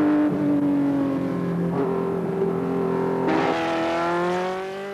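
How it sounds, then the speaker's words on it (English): A 1975 Formula 5000 race car engine drones loudly and steadily at Oulton Park, its pitch climbing through gears before easing off near the end. "Half a dozen laps were enough to put the new car through its paces, but David suggested I try a few laps solo,"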